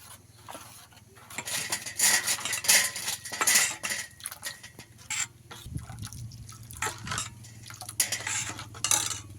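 Boiled milk is mixed into a coconut nut paste for homemade ice cream, heard as repeated clinks and scrapes of a spoon against a bowl in uneven bursts, with some faint liquid sounds.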